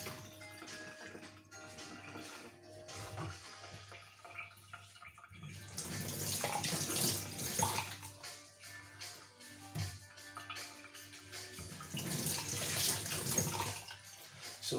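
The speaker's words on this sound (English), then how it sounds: "So I'm gonna quickly wash my lovely tomatoes." Tomatoes are rinsed under a running kitchen tap, a steady splashing stream of water that swells louder in two surges, with no talk over it.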